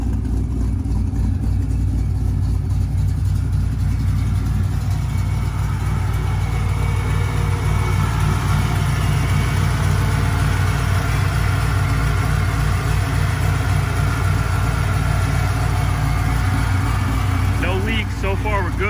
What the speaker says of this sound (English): The idle sounds just perfect.